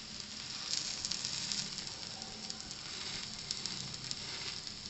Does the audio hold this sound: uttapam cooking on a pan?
yes